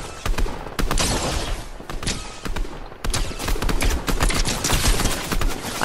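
Dense enemy gunfire in an online shooter game, rapid volleys of shots crackling almost continuously and loud throughout, with heavier bursts near the start and after the midpoint.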